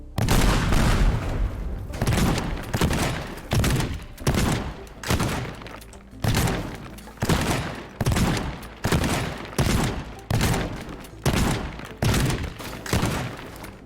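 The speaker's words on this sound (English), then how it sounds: "That seems like a pretty good amount of explosion." Repeated explosions in the Teardown video game, a long rapid series of loud, heavy blasts and booms, one after another in a steady rhythm of about one per second, close and forceful, with no talk over them.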